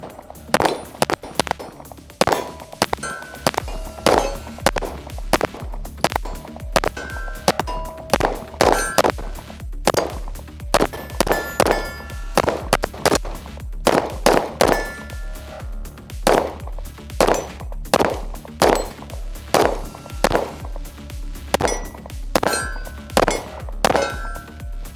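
Shots from a factory-ported Fowler Industries Vanta 9 pistol, a long string of loud, sharp reports fired in quick irregular bursts, each crack ringing with a metallic clang, close and dominant throughout.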